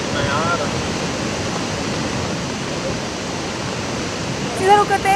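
Fierce floodwater rushing after a cloudburst at Sahastradhara, Dehradun, a loud, steady, dense roar that fills the scene throughout, with a brief flurry of other sounds near the end.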